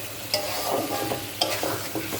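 Cut potatoes hiss and crackle as they fry in a pan with a cooked-down spice and tomato masala, with steady sizzling broken by a few sharp spoon scrapes and clanks as they are stirred.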